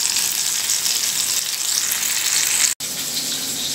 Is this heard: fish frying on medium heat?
yes